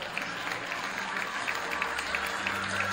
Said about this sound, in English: big round of applause for our freshman Lions here this evening